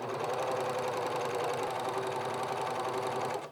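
A sewing machine stitches a raincoat lining in a steady rapid run, with a fast even mechanical rattle close and loud that stops abruptly at the end.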